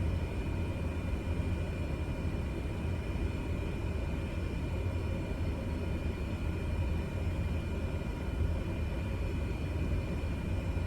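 A small airplane taxis toward the end of a runway in Florida, its engine a steady low drone and rumble holding at a moderate, unchanging level throughout.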